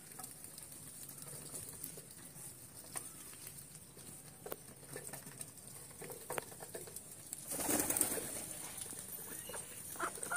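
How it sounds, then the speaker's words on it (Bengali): Ducks eating rice feed and drinking water make soft, irregular pattering and pecking sounds, faint and close, with no talking. "দেখেন প্রত্যেকটা হাঁস তার খাবার খেয়ে পানি খেয়ে আবার আসছে খাবারের জায়গায়।"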